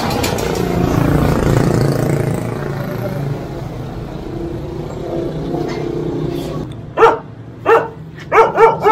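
A dog barks in a run of sharp, loud, close barks near the end, after a stretch of engine rumble from a road vehicle, with a voice in the background.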